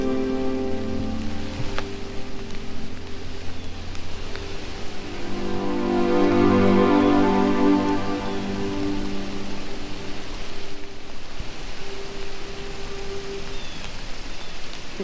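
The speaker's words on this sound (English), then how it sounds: "Uh-oh, I can hear raindrops." Raindrops falling outdoors on a fall camping trip in Canada, on the way to a lookout: a steady, moderate patter of light rain that continues evenly throughout, with a low drone running beneath it.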